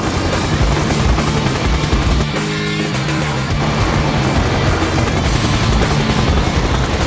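A helicopter flies nearby with a loud, steady roar of rotor and engine throughout, and a brief tonal whine rises midway through.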